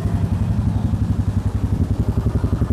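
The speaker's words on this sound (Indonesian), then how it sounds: "suara dari knalpotnya seperti ini, khasnya dari motor Royal Enfield" A Royal Enfield Classic 350 idles with its exhaust close by, a loud, steady thumping pulse with an even rhythm and a metallic clatter over it.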